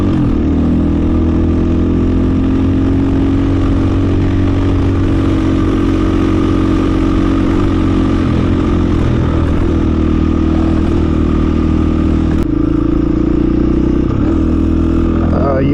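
A 2020 Husqvarna FE501s single-cylinder motorcycle engine drones loud and close under way, holding a steady pitch with brief dips as the quick shifter clicks through gears near the end.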